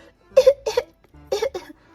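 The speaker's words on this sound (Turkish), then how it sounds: "Bir daha öksür." Two pairs of short, close coughs separated by a brief pause, sounding light and somewhat forced, as a child fakes being sick for a doctor.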